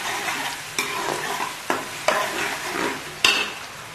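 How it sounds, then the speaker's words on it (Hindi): Ginger-garlic paste fries in hot oil for mutton korma, a steady close sizzle broken by several sharp scraping stirs of a spoon in the pan. "और उसी ऑयल में ये अदरक और लहसुन का पेस्ट डाल दूंगी और 2 मिनट के लिए भूनूंगी।"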